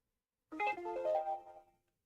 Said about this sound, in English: Phone's making funny noises at me.